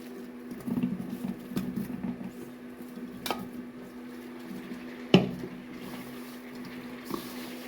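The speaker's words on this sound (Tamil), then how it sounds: "நம்ம காலிஃப்ளவர் இதில் வந்து போட்டு நல்லா மிக்ஸ் பண்ணி" Cauliflower florets being mixed into a spice batter for crispy cauliflower 65 give off soft, wet squishing and pattering, close but faint, in irregular bursts that thin out, with a sharper knock partway through.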